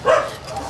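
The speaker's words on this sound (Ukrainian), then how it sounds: "А це собака Мамуля" A single dog bark at an animal shelter in Poltava, rising sharply and fading within a second, close and fairly loud, with no talk over it.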